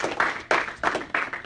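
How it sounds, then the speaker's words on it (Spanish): A crowd claps in short, loud bursts, about four swells of applause in quick succession, with some voices mixed in. "Dale un fuerte aplauso al Señor."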